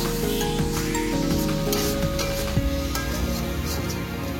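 Steady crackling sizzle of spices frying in a pan, close and continuous with a constant hum underneath and occasional sharper pops.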